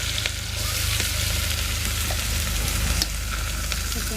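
Curry leaves, chillies and onion frying in hot oil, a loud steady close sizzle that hisses on without pause and without talk.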